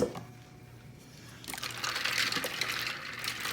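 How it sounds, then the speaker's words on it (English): Blanched potatoes splash into an ice-water bath with lemon juice, a soft watery slosh and trickle rising after a quiet start and continuing close by, with no talking. "we'll take our blanched potatoes, add them to the ice bath."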